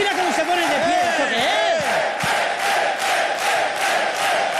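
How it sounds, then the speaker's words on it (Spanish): A TV studio audience cheers, whoops and applauds in a standing ovation, a loud, dense crowd roar with shouted voices rising over it and steady clapping underneath throughout. "ese aplauso grande con ovación para Red Rombo Rodríguez"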